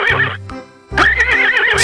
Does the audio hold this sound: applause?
no